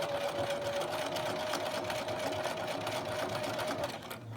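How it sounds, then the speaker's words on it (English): Sewing machine quilting a T-shirt quilt with a walking foot, a steady close whirring stitch rhythm running continuously before stopping near the end. "And I'm going to begin quilting along that line."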